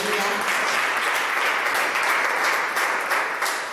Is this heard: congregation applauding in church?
yes